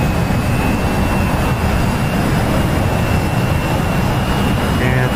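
A naval jet roars steadily on final approach to a runway in the DCS World flight simulator, a loud, continuous engine drone with a faint high whine running over it.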